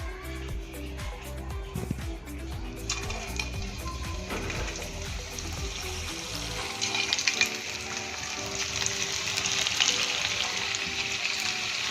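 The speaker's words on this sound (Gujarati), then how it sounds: "હવે આને આપણે આપણું તેલ આવી ગયું છે એમાં આપણે મસ્ત સરસ ક્રિસ્પી એવા ડીપ ફ્રાય કરી દઈશું" Papad snack pieces deep frying in hot oil, a steady, close sizzle that swells and brightens partway through, with rhythmic background music underneath at first.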